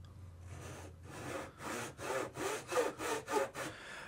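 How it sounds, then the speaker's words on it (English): A hand saw cuts a fret slot in wood for a bass guitar build, in rhythmic back-and-forth strokes, about ten rasping passes that grow steadier and stronger, close and clear. "ready for some proper sawing"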